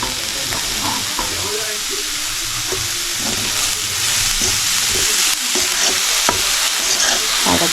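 Leaf thoran stirred while it fries in a pan, a loud continuous sizzle and hiss with repeated scraping stir strokes close by.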